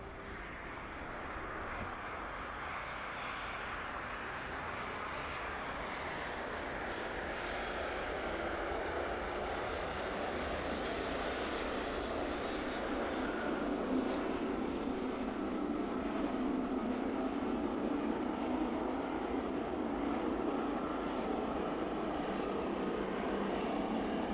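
A jet airliner arriving at East Midlands Airport in the evening after a flight from Cincinnati. A broad, steady engine roar swells gradually, loud and unbroken, with no voices.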